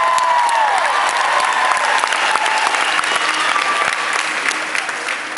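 At a concert at TCU Place in Saskatoon, a large audience claps steadily and loudly, with faint cheering mixed in, across the whole stretch.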